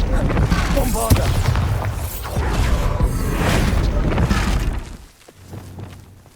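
A Bombarda blasting spell goes off in Hogwarts Legacy, a loud shattering explosion with breaking debris and rumble that holds for several seconds before dropping away to a quieter tail.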